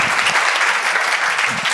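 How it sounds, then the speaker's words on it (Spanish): Loud audience applause at a Spanish-language panel discussion on innovation with native wood, a dense, even burst of clapping filling the short stretch without pause. "Un aplauso, por favor."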